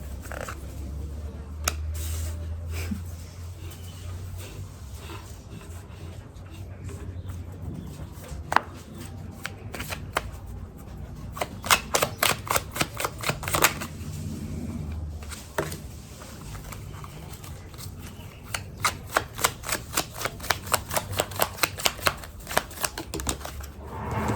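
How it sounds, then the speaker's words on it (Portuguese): Tarot cards shuffled by hand on a table, quick bursts of crisp riffling clicks and flutters repeating in clusters, close and fairly loud, with faint background noise. "Eu só vou primeiro tirar as cartas, tá?"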